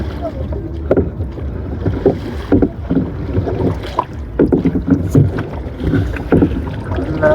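A boat is rowed on the Bangshi river near Savar, with splashes and knocks of oars in an uneven rhythm, wind buffeting the microphone, and people talking close by.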